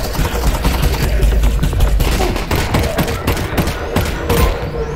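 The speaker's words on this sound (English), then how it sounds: "Shooting the corpse." Rapid gunfire in the video game Half-Life: Alyx as a corpse is shot, a dense burst of sharp repeated shots over about five seconds, loud and close.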